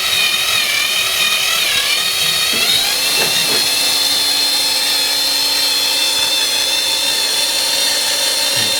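A cordless drill spins the oil pump gear of a VAZ 2102 engine during an overhaul, a loud steady whine that shifts pitch slightly partway through and runs without a break.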